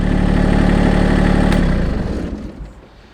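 Massey Ferguson GC1723e compact tractor engine runs loud and close at a steady 1500 RPM warm-up speed, then winds down and fades near the end as it shuts off.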